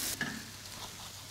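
Spinach sizzles steadily in a hot wok while a utensil scrapes and stirs it briefly, close by.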